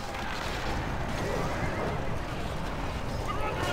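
Rohan cavalry horses neigh and whinny amid galloping hooves in the Battle for Middle-Earth strategy game, a dense, continuous battle din with shouted voices mixed in.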